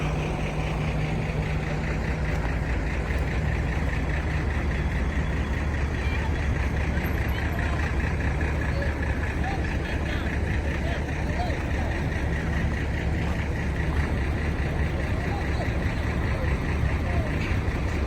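A tour bus engine idles with a continuous low rumble and drone at steady loudness while people talk nearby.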